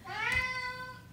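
A single drawn-out meow from a neutered pet house cat, close and clear, rising then gently falling in pitch and fading over about a second, with no talking.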